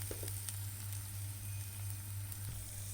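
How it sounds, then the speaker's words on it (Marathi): Spiced masala for a vada pav filling fries in a pan with a steady, soft sizzle and crackle, faint and continuous with a few small pops, no talking. "हे बघा मसाला मस्तपैकी फ्राय केलेला आहे"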